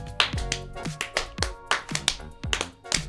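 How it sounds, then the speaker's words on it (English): Podcast show hosts clap out of sync, a handful of sharp, distinct claps and hand taps scattered irregularly over three seconds, close and fairly loud, with no talking. "Off sync clapping"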